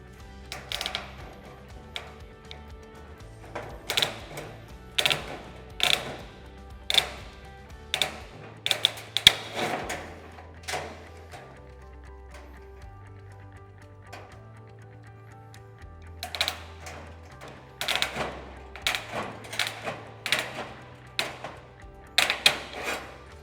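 Snips cut a notch in steel roof mesh in a string of sharp metallic clicks and snaps, coming in quick bursts with pauses between them under a low steady hum.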